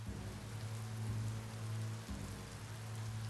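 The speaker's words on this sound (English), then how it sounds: "When it rains, it gets wet." Steady rain falling in the video game Biomutant, a constant close hiss of drops over a low droning hum, with no talking.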